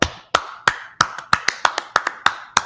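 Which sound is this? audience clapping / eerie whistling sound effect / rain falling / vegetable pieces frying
audience clapping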